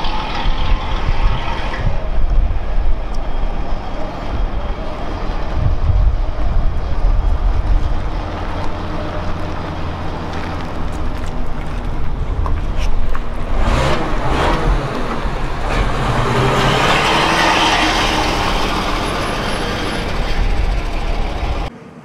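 A Mercedes O302 bus engine drones steadily while driving, a loud continuous rumble with rattling mechanical noise that swells somewhat toward the end.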